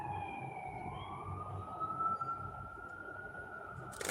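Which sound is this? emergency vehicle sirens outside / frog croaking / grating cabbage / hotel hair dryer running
emergency vehicle sirens outside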